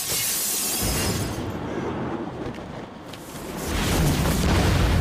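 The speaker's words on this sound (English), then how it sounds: "Explosion!" A loud blast in Batman Arkham City, with a roaring burst of debris and shattering noise that fades, then swells again into a heavy rumble.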